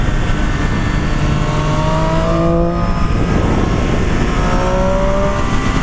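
Triumph Street Triple 765 RS motorcycle engine accelerating hard, a loud, close three-cylinder roar with rising pitch as it climbs through the revs.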